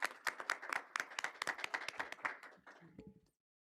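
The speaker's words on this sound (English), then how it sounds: "Let's give them a big round of applause as they showcase their schools." Audience applause at a school board of education meeting for assistant principals and students, a burst of individual hand claps from a modest crowd that tapers off and stops abruptly.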